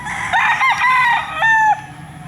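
A large broodcock rooster crows once, loud and close, a drawn-out multi-part call that rises and then trails off, followed by quiet.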